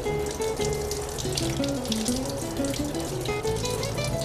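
Water runs steadily from a sink tap while hands are rinsed under it, a continuous splashing flow with shifting tones as the stream hits skin and basin, in a healthcare hand-washing setting.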